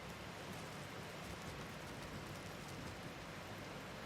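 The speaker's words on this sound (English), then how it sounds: "So the rain on the boat looks so good." Steady rain pours onto a boat in the video game BioShock Infinite, a dense, even hiss with no breaks, heard alone.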